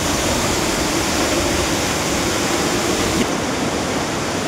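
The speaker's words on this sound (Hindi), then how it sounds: "हिला वाटरफॉल, बहुत प्यारी वाटरफॉल है, आप देख ही रहे हैं।" Hillan Waterfall in Kashmir roars with a steady, dense rush of falling water, loud and unbroken throughout with no voices.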